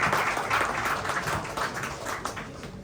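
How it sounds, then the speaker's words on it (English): Applause from an audience at a service design meetup in Dubai, a dense, steady patter of clapping lasting a few seconds, close and fairly loud before fading slightly. "Yeah, round of applause."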